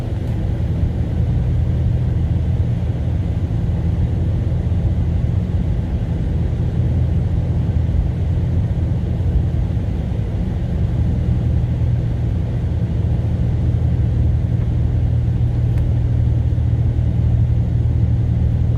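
A Dodge Scat Pack on Continental Viking Contact 7 winter tires climbs a long snowy uphill, a steady low engine drone and road rumble heard from inside the cabin throughout, with no talk.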